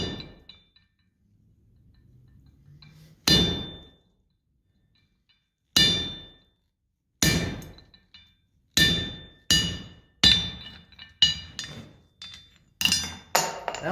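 A hammer strikes metal while a chisel is cut to length at a blacksmith's anvil, a series of sharp ringing clinks, widely spaced at first and then coming in quicker bursts, with silence between.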